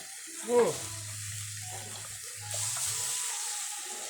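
Thin coconut milk is poured into a green curry, a soft splash followed by a steady liquid pour and gentle bubbling in the pot.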